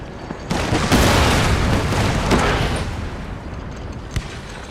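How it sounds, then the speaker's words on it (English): Ship cannons fire from a small brig in a naval battle in Empire: Total War, a heavy booming volley that rolls on with rumbling aftershocks and a sharper single report near the end, loud and close. "Even the cannon fire was rocking that"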